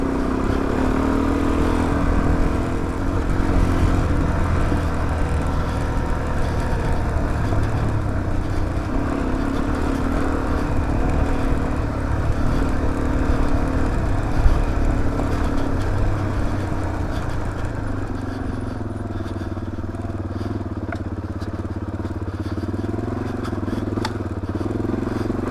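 A Suzuki DRZ400 single-cylinder motorcycle rides off-road on country tracks, its engine droning steadily and close throughout, with a slight drop in pitch near the end.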